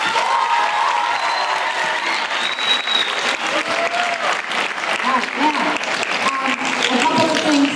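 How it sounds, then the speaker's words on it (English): Sustained audience applause at a middle school poetry slam, honoring a teacher; dense, steady clapping from a crowd fills the whole stretch at an even level with no break. "Round of applause for Ms. Crouch."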